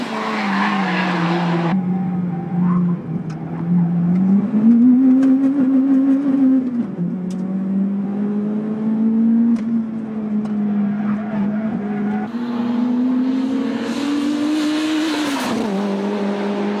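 A turbocharged Top Fuel Honda DC5 with about 320 horsepower and stock brakes laps Tsukuba circuit, its engine droning loud and steady as revs rise and fall through corners, with tire squeal and brief shifts, under no talk.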